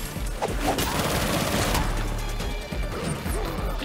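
Rapid, dense gunfire and crashing impacts in Gotham Knights, loud and continuous across a few seconds of combat.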